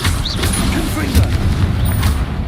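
A Confringo blasting spell explodes in Hogwarts Legacy, giving repeated booming blasts and crackling bursts amid steady game rumble, with a voice speaking over the action.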